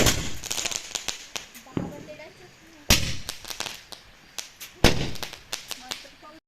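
Sharp Diwali firecracker bangs crackle in rapid, irregular bursts, some loud and close, others fainter, with a few voices murmuring in between.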